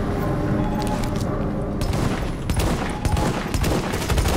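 A steady fusillade of gunfire in The Division on hard difficulty at Grand Central Station, with rapid shots and booms close and loud, layered into a dense battle din.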